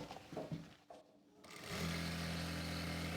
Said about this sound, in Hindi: इलास्टिक को खींचेंगे और पूरे राउंड में ऐसे सिलाई लगा लेंगे